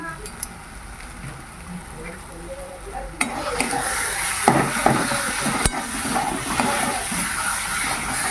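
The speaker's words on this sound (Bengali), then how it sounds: "ভালো করে মিশিয়ে নেওয়া হয়ে গেল" Eggplant bharta stirred with chili powder in a frying pan, a quiet sizzle at first that grows louder and busier, with spatula scrapes and sharp clanks against the pan.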